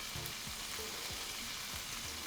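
Pork belly fat sizzles and fries steadily in a pan, a continuous close crackle with faint scraping stirs, no talking.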